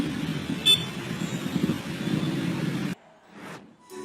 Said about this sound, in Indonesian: mereka terus-terusan diklakson oleh bus